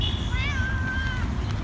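A starving, sick cat gives a single drawn-out meow asking for food, close and clear over a low rumbling background.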